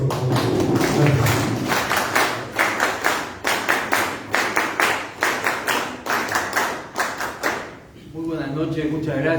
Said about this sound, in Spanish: Un aplauso a todos.